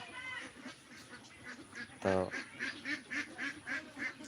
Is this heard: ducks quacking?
yes